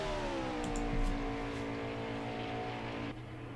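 Several NASCAR stock cars roar together in a virtual racing game during the FedEx Virtual Cup Series, a steady layered engine drone at high revs that is loud and continuous, then drops off sharply near the end.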